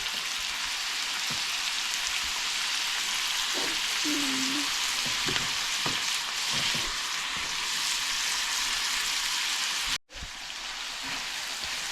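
Shrimp sizzle in avocado oil with Dano's Cajun seasoning in a pan, a continuous close crackling hiss with a short break near the end.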